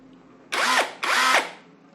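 A cordless hammer drill whirs twice in short bursts, each rising and then winding down, loud and close against a quiet background.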